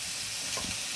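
Vegetables frying in a pan with salt added, giving a steady broadband sizzle throughout with a little stirring near the middle, no talking.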